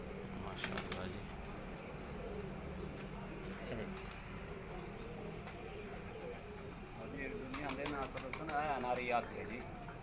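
Lakha breed pigeons coo in a loft, their soft repeated calls mixed with ongoing nearby talk and general background noise.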